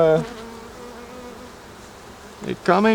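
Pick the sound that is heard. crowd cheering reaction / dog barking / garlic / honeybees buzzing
honeybees buzzing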